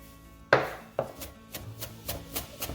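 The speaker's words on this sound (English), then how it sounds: "now we're gonna chop up the parsley and add the last of the olive oil" A knife chops parsley on a board for hummus with a firm first stroke, then a quick, steady run of lighter close taps.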